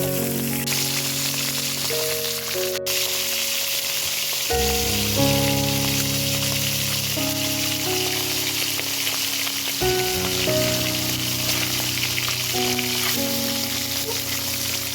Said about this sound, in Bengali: তেলটা গরম করে নিয়েছি এর মধ্যে হচ্ছে রুই মাছগুলো ভেজে নেব